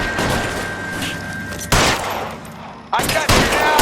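Gunfire in L.A. Noire, several loud gunshot bursts with reverberant tails over a background of game ambience.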